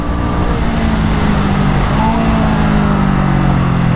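A Honda Rebel 500 motorcycle accelerates up through the gears toward 100 km/h, with steady, loud engine drone and a brief pitch dip at a shift.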